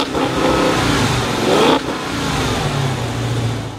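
A Dodge car engine fires up and revs hard, a loud close rising roar that peaks and cuts sharply, then settles into a steadier lower rumble with no talking.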